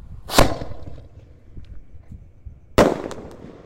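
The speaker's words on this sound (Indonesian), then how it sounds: "di sini ada Bima Sakti Romain Candle ukuran 4 inci bosku. Kita nyalakan. Sudah menyala, siap meluncur" A Bima Sakti 4-inch Roman candle fires at night, two sharp loud whooshing pops about two and a half seconds apart, each trailing off into faint crackle.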